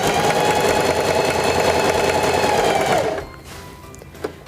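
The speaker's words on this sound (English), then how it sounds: "Place the fabric underneath the presser foot, lower the presser foot, and begin sewing." Singer 4411 heavy duty sewing machine stitching a long, wide zigzag, a loud, steady, rapid mechanical hum for about three seconds that stops abruptly, followed by a quiet click.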